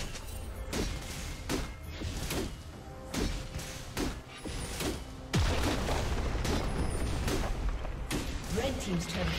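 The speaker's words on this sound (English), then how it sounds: "Red team's turret has been destroyed." Turret destruction in a League of Legends match, with Olaf against Jax in the top lane: a series of heavy thuds and blasts, then a sustained crash, mixed with game effects and an announcer's voice.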